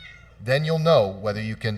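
A house cat meows close to the microphone, one drawn-out, rising-and-falling meow followed by a shorter one, fairly loud and overlapping a person talking indoors.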